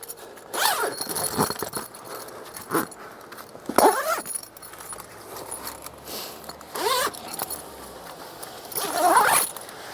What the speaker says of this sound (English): Now we can zip up that.